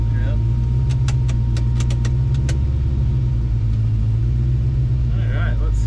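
A 1957 car's engine idles with a steady, loud low rumble throughout, joined by a few brief metallic clinks early on.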